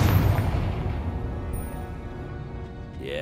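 A Confringo spell explodes in the video game Hogwarts Legacy, one deep booming blast at the start whose rumbling tail fades over about three seconds, moderately loud and with no talking.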